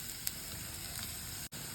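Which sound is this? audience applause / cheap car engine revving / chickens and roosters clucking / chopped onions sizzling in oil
chopped onions sizzling in oil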